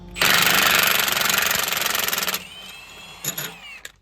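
Impact wrench rattling a bolt out of a tractor, a loud continuous hammering burst of about two seconds, followed by quieter workshop clatter and brief knocks, with chainsaws running in the background.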